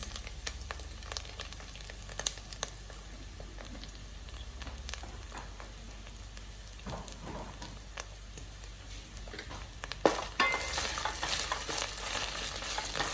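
Steady, quiet frying and sizzling in oil, with occasional stirring clicks and a louder crackle toward the end; no voices.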